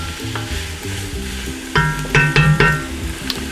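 Onions and garlic sweat over medium heat in a pan for chili, a steady soft sizzle broken by several louder stirring scrapes near the middle, with no voices.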